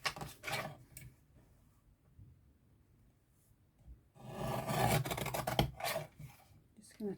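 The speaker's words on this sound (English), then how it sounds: "So I've got my little trimmer." A small paper trimmer slices a thin sliver off patterned card stock, giving a faint, close scraping swish near the start and a louder, longer cutting rasp with light clicks later, set against a quiet room.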